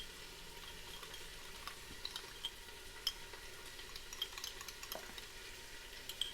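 Soft stirring and faint clinks of a spoon in a small cup of saffron steeped in about two tablespoons of boiling water, with light scraping over a quiet steady background hiss.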